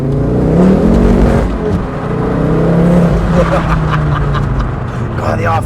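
A Ford Focus RS Mk2 with an MR375+ tune accelerates hard, its engine note rising and holding loud and close throughout, with people talking over it.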